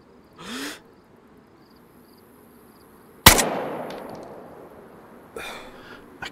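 A single sharp, loud rifle shot cracks in DayZ, followed by a long fading echo, with a few faint shorter noises before and after in an otherwise quiet outdoor setting.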